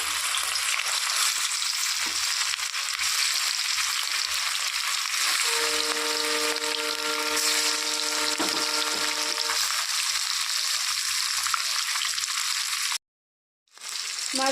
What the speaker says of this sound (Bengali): তেল গরম হয়ে গেছে এখন দিয়ে দিচ্ছি তেলের মধ্যে মাছগুলো এক এক করে